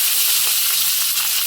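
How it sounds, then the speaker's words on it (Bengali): Fish seasoned with turmeric and salt sizzles in a hot pan, a steady crackling fry running evenly and close up for the whole moment with no voices. "মাছগুলো ভেজে নিচ্ছি"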